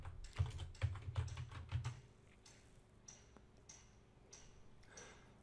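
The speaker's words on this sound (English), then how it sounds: "just start typing Ichema" Rapid keystrokes on a computer keyboard clatter in a quick burst for about two seconds while an indicator name is entered, then give way to a few faint, sparse ticks against a quiet background.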